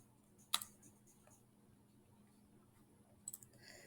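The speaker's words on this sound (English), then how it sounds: "I keep clicking the arrow. I keep switching tabs." Mouse clicks on an arrow used to switch tabs in Google Meet: one sharp click near the start and a couple of quick clicks near the end, quiet and close against low background hiss.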